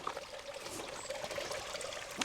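Water from an old spring that once fed Roman baths runs in a steady, close trickle and pour, continuous for the whole stretch and heard alone without talk.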